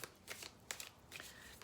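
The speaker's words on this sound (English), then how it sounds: "So just getting started, we'll have a shuffle" A deck of Ocean Oracle cards is shuffled by hand, giving quiet, crisp bursts of card riffling in a few short spurts with nobody speaking.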